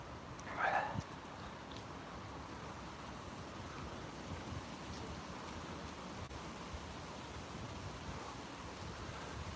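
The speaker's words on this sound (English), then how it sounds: "Pretty breezy at the moment." Breezy morning wind outdoors on a walk in the UK rushes steadily against the microphone as a continuous broadband roar, with a brief louder gust near the start and no talk.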